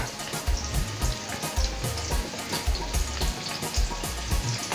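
Onion and garlic fry in a pot with a steady close sizzle, broken by rhythmic low thumps and stirring knocks that repeat roughly every half second.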